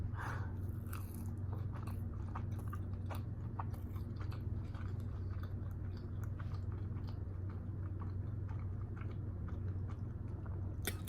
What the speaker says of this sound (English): hear the chewing noises. Because it's so chewy.